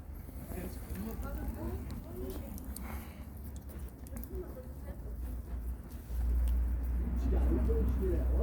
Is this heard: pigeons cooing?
yes